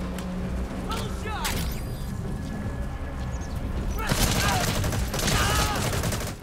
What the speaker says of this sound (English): Who are they shooting at, man? You guys got bad aim.